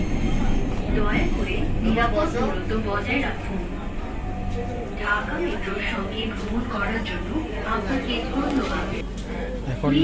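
A metro train rumbles at a station amid a low mechanical drone and a busy crowd of voices chattering throughout.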